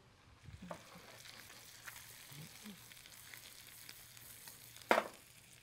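Potatoes frying in butter give a soft, steady sizzle at low volume, with faint scrapes and one brief louder clatter near the end.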